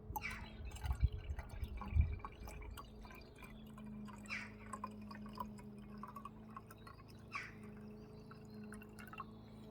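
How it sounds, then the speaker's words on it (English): Liquid pours and drips into jars while gold is recovered from e-waste, with a few soft splashes and drips early on over a steady low hum, then sparse faint drips. "I'm going to take as much of this liquid as I can"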